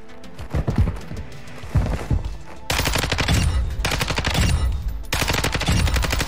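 A Lachman 556 assault rifle fires in a video game, fast rhythmic automatic bursts with sharp repeated reports, loud and close, in several long strings.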